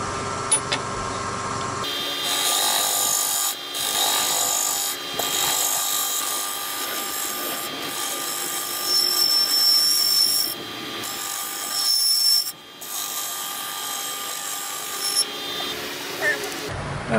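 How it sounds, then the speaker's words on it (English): A half-round rasp skims the inside of a maple vessel in steady, close rubbing strokes with brief pauses, over a constant machine hum and tonal buzz. "I'm going to take my half round and just skim the inside a little bit to smooth it out"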